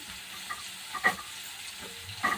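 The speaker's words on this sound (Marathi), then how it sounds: "कांदा सुद्धा छान असा सरंग येईपर्यंत तळून घ्यायचा आहे" Chopped onion frying in a pan gives a quiet, steady sizzle, with a couple of soft clinks of a spoon stirring it.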